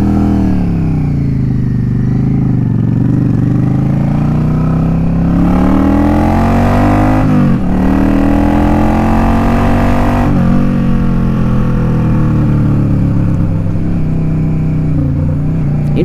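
Motorcycle engine fitted with an Emgo-style cocktail shaker exhaust during a test ride, a loud steady drone whose pitch rises and falls through gear changes and throttle shifts, continuous for the whole stretch with no talking.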